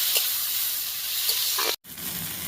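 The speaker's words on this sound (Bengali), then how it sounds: "দিয়ে দিচ্ছি আদা কাঁচা লঙ্কা বাটা, দিয়ে দিচ্ছি টমেটো কুচি, একটু ভালো করে কষিয়ে নেব" Ginger-green chili paste and chopped tomato sautéing in a pan for a vegetarian cauliflower kalia give a steady close sizzle and hiss with a few soft stirring scrapes, broken by a sudden brief dropout near the end.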